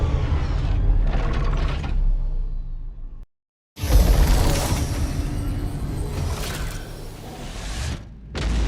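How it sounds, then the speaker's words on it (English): A Kruger S-65 Stingray ship in the Star Citizen video game powers down with loud mechanical whirs, ratcheting and creaking servo sounds, a brief silent gap, then a swelling rush of machinery that slowly tapers off. "it sounds just as good shutting it down"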